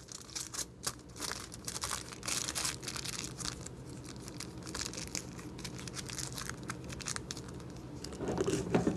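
Aluminum foil crumpled and crinkled by hand while setting up a glass jar with acetone-soaked cotton balls, a steady, close crackling texture with sharp crinkles throughout and a louder burst at the end.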